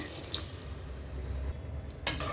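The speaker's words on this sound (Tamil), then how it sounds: "நான் சூடான நீர் தான் சேர்த்துக்கிறேன்." Hot water poured into oats in a pot for Tamil-style vegetable masala oats kichidi, a steady faint stream close by that stops briefly partway through and then resumes, with no talking.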